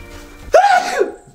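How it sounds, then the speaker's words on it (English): A single loud, close sneeze with a sharp onset and a voiced, falling tail, heard alone against quiet room noise. "That was a big sneeze"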